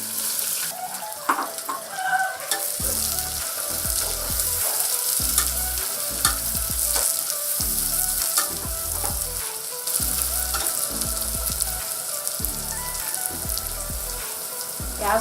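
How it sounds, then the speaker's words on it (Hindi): Onions fry toward brown with whole garam masala spices for mutton haleem, a loud continuous sizzle broken by frequent stirring scrapes and clatters of a spoon against the pan, with some running-water wash in the background. "प्याज को हमें ब्राउन कर लेना है।"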